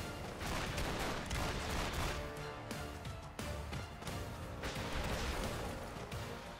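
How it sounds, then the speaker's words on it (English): Rapid continuous gunfire aimed at a boss in the video game Ependabros, dense overlapping shots and impacts filling the whole stretch at steady loudness, with no talking. "Now I can shoot at him."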